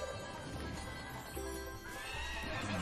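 Horse neigh sound effect from the Lucky Horse slot machine, a whinny with faint hoof clatter over a steady electronic game hum, fairly quiet.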